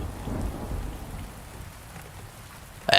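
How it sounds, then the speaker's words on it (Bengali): Steady rain pours down with low rumbling thunder underneath, then a sharp burst near the end. "তখনও বাইরে এক নাগাড়ে বৃষ্টি হয়ে চলেছে।"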